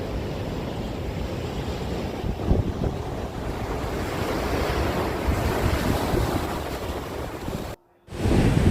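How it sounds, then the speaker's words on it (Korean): Large ocean waves crash steadily along the rocky Samcheok coast in South Korea, a loud continuous roar of surf with heavy wind buffeting the microphone and a short dropout near the end. "파도 소리가 굉장히 우렁찹니다."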